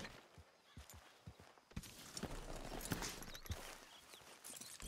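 Horses walking around a camp in the video game Red Dead Redemption 2, a steady clip-clop of hooves at moderate distance with soft ambient rustle, no talking.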